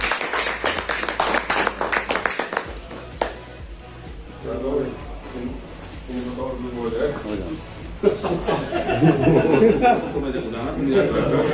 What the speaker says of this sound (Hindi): मैं चाहूंगा कि उनका स्वागत बड़ी जोरदार तालियों के साथ बताइए